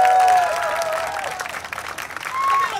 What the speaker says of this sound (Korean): 여러분 박수 한번 주세요 박수 한번